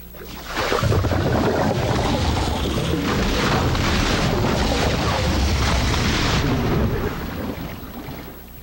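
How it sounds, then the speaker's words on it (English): Jacuzzi bubbles serve as a sinking-ship effect: a dense, loud, continuous roar of churning, gurgling water that swells in after a quiet start and holds steady before tapering near the end. "Bubbles from a jacuzzi are used to create the sound of the sinking ship."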